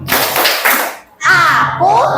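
Children in a classroom clap together in a rhythmic chant led by a teacher, a burst of close claps followed by voices calling out in unison.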